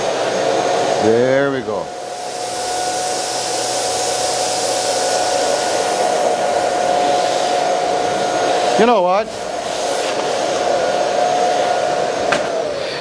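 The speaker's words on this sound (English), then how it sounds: "If this vacuum cleaner doesn't pick the dirt off your floors, nothing will." A Miele Boost CX1 Parquet vacuum cleaner runs steadily on a bare floor with a loud continuous whine and rushing air throughout, while someone speaks briefly over it twice.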